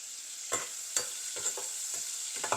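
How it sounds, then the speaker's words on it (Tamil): Prawns frying in oil with salt, turmeric and chili powder for a homemade prawn biryani: a steady close sizzle broken by several sharp stirring scrapes at irregular intervals, with no talk. "இந்த இறால் இப்போ பொரியுது"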